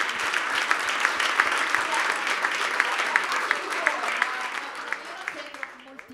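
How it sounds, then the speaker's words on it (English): Applause from the crowd at a motorcycle racing team launch event, a steady wash of clapping with a few sharp individual claps standing out, fading toward the end with voices underneath. "A round of applause."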